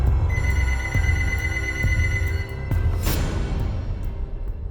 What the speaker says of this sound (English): the phone rang, echoing in the apartment